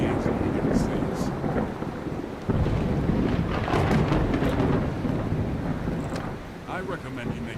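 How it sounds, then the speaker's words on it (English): Thunderstorm at sea in Mount & Blade II Bannerlord: a deep, rolling rumble of thunder with rain and wind roaring throughout. It swells again midway and stays loud and continuous, with faint voices underneath. "I'm sorry about the thunder."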